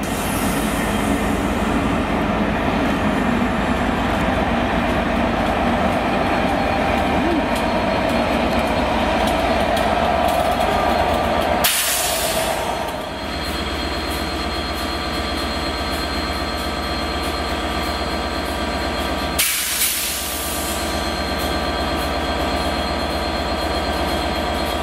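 Mainline steam train with a diesel locomotive coupled at the rear, passing as a loud, steady rumble of wheels and engine that holds for the whole stretch, with two brief sharp bursts along the way.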